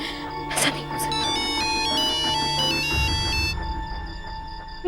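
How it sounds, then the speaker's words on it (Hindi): An electronic phone ringtone plays on unanswered, a bright tinkling melody of repeating tones that holds steady for several seconds before stopping, with a low thud and murmur beneath it. "कब से मैं तुझे फोन कर रही हूँ, फोन क्यों नहीं उठा रही है तू?"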